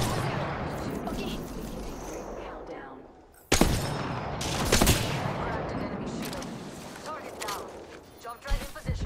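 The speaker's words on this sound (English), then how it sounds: "The enemies are shooting at me." Rapid bursts of enemy gunfire in the Apex Legends video game, loud and close, with sharp cracks and overlapping volleys after a brief lull, and a voice talking over the shooting.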